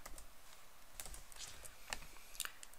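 Quick bursts of computer keyboard keystrokes while a command is entered in Java code, light clicky taps in an irregular rhythm, close and fairly quiet with no talking.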